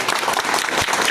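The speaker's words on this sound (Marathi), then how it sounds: "सर्वांनी टाळ्या वाजवून त्यांचं इथं स्वागत करावं।" A crowd applauds to welcome a guest at the inauguration of a Shiv Sena public relations office, a dense, loud and continuous burst of clapping from many hands, close by.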